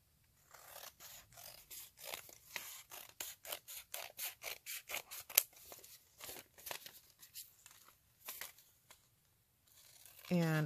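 A paper envelope trimmed for a junk journal with scissors, a close run of crisp, rapid snips and paper rustles in uneven bursts, pausing briefly before a final rustle.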